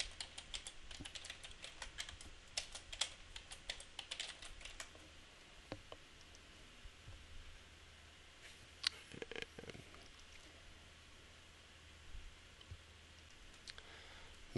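A password being typed on a computer keyboard while setting up a domain controller: quiet, irregular bursts of key clicks with short pauses, close by and alone.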